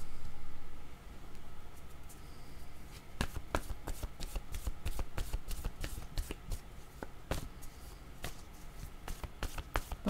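Tarot cards being shuffled and drawn, a run of crisp, rapid riffling snaps and slaps that start after a brief quiet stretch and continue at close range with no talking.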